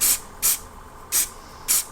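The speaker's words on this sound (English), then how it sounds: "Go ahead and spray some activator on it." Four short hissing bursts from a spray bottle of activator misting onto a wood finish, evenly spaced and close, with quiet pauses between them.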